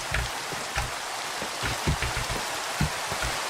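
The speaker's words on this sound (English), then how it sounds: "I like when it rains in the game." Rain falling in the video game Minecraft, a steady hiss of close rainfall with scattered soft drop impacts, continuous and unaccompanied by speech.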